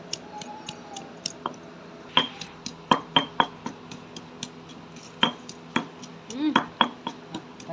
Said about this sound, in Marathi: आता ही मिरची खलबत्यामध्ये कुटायची तर अगोदर लसण आणि अद्रक कुटून घ्यायचा